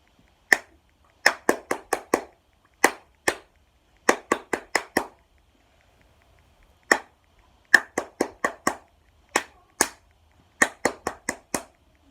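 A short rhythmic pattern of sharp hand claps in three groups separated by pauses, crisp and close, with no voices.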